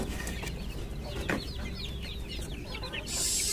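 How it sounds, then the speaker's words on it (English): Several native chickens, three months old, cluck and chatter in a backyard cage in quick, overlapping bursts nearby, over a steady low hum, with a brief hiss of noise at the end. "they are all native chickens"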